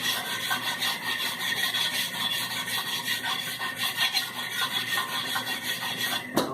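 A wheel rim being scrubbed clean of corrosion and old bead sealer during a tire change gives off a steady, close rasping scrape that runs continuously with a rhythmic back-and-forth texture.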